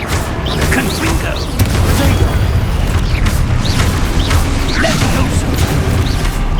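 Spell explosions and magical impacts from the Hogwarts Legacy video game, including the fiery Confringo curse, boom and crash in a dense, loud, continuous barrage of blasts, with chirping effects layered over a heavy low rumble.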